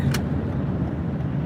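Road traffic noise with a car passing nearby, a low steady engine rumble and a brief sharp click near the start.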